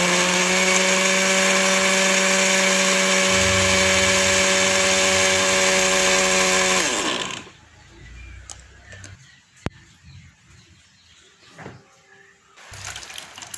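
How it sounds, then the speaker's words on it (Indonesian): A blender purees steamed yellow sweet potato with water, a loud steady motor whine with strong harmonic hum for about seven seconds, then spinning down abruptly into quiet kitchen clatter. "Setelah itu, blender ubinya ini sampai halus."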